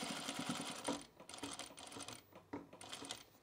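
A sewing machine stitches along the collar of a jacket, its needle clattering in quick rhythmic bursts that pause briefly between runs, close and quiet, with no talking.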